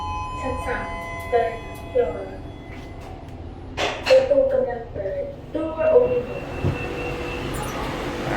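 At a Bangkok BTS/MRT station, a metro train pulls away with a low rumble under a few tonal squeals and hums, while people talk nearby in intermittent bursts.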